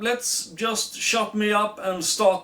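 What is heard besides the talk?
No everyday noises stand out.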